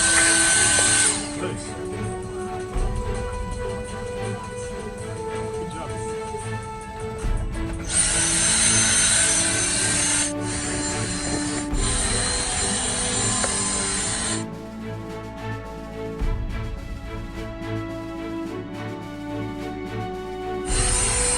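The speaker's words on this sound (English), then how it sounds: "And just keep brushing it until all the stain are gone." Powered brush or cleaning tool whirring steadily against a stained car seat, close and loud, switching pitch and intensity in sections with brief pauses between.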